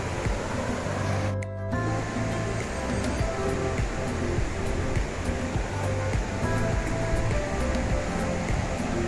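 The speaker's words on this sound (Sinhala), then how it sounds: "ගලාගෙන යන මේ වතුර කොයිතරම්නම් පිරිසිදුයිද කියන කාරණාව" Clear mountain water rushes steadily along a stream near Adam's Peak in Sri Lanka, at the source of the Kalu River, forming a close, loud and unbroken wash with no speech.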